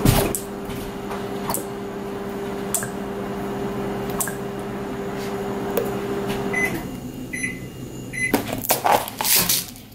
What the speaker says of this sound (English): we are heating up our pancakes